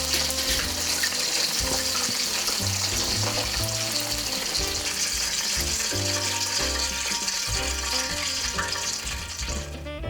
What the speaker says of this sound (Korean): 기름을 아주 뜨겁게 달궈 튀긴 닭을 다시 넣고